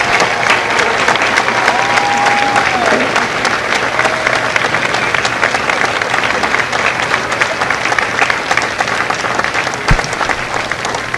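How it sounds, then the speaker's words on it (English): Crowd at a Marine Corps recruit graduation ceremony in San Diego applauds, sustained loud clapping across the whole stretch with a faint whistle-like tone briefly rising above it. "Ladies and gentlemen, a round of applause for their dedicated service to Corps and country."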